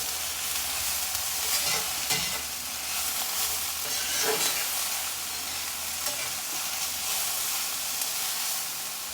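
Ramen noodles tossed with a sesame peanut sauce in a hot pan, a constant close sizzle with repeated scraping and stirring strokes at an uneven rhythm.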